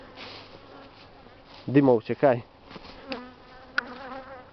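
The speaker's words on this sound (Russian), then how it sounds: "А вот сквозь матку заходят пчелы, за ухи кусают" An angry swarm of honeybees hums as a steady, faint buzz in the background, while a voice briefly speaks over it in the middle.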